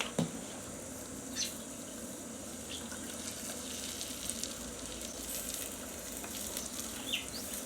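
Pancake batter frying in a small fry pan over the narrow flame of a compact camp stove at a motorcycle campsite, a faint, steady sizzle running throughout, with no one talking.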